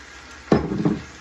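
Collard greens in olive oil with pickled hot peppers get a quick stir in a pan, a brief scrape and clatter with a short sizzle, fairly close and on its own.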